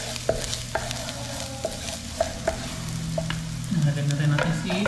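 Garlic dropped into hot oil that was used earlier for frying carrots and potatoes, with a steady sizzle and scattered sharp clicks of stirring; the frying swells louder near the end, with no talking.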